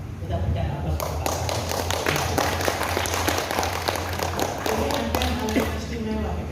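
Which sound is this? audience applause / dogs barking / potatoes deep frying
audience applause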